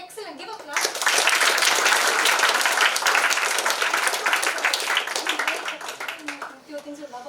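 An audience in a suicide-prevention session claps together for several seconds, a dense steady patter of many hands that swells quickly and then tapers, with a few voices audible under it near the end.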